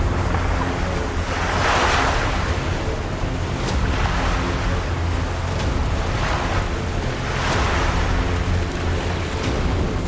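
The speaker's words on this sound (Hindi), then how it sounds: "टापू के और करीब पहुंचे तो समंदर की हलचल और तेज होती गई।" Sea waves surge and crash in broad, rolling swells as a boat nears a small island, loud and close, with steady wind buffeting the microphone throughout and no voices.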